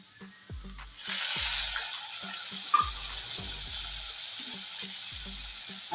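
Chopped tomatoes hit sautéed onions in a pan, and a hissing sizzle swells up, then settles into steady frying, with scattered knocks and scrapes of a spoon stirring close by.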